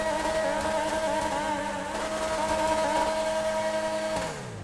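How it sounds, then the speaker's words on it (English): Engine exhaust of the Grotti X80 Proto supercar in GTA Online, a steady high-revving tonal drone that holds constant before dropping in pitch near the end, with no talking. "That exhaust sound would actually be very accurate for a car like this."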